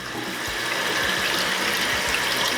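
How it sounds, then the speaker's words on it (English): Water runs steadily through Wagner paint sprayer lines in a constant hissing rush, with faint low knocks underneath, like flow forced through a hose or line. "you're gonna wanna just run the water through this, where the Pretreat comes out"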